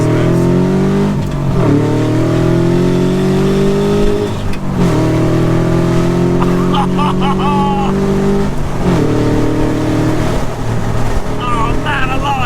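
Subaru-engined Fiat 500 with a 170 hp engine, heard loud and close from inside as it accelerates hard through repeated gear changes, engine note climbing steadily then dropping at each shift, with brief speech underneath.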